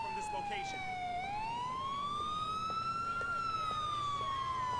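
Police car siren in the video game GTA IV, a loud, continuous wailing tone that dips and then climbs in slow sweeps, holding steady over a low rumble of engine and traffic noise.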